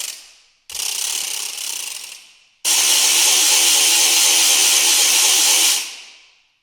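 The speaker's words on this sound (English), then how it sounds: "Rattle, one of my all-time favourites." A rattle percussion effect from the ProjectSAM Lineage Percussion sample library plays two dense, clattering rolls alone: a short burst of about two seconds, then a longer sustained roll that fades out.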